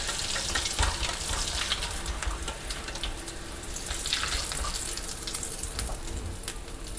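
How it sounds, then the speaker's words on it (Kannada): Vada frying in a pan of oil gives a steady, close crackling sizzle with bursts of bubbling that carry on throughout. "ಇಲ್ಲಿ ಚೆನ್ನಾಗಿ ಫ್ರೈ ಆಗಿದೆ."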